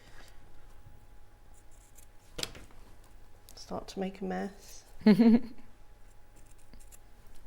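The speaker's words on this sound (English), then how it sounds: "So I'll do these with scissors so it's nice and quick." A few quick snips of scissors cutting quilt fabric, close and fairly quiet, mixed with soft handling noises while someone speaks briefly.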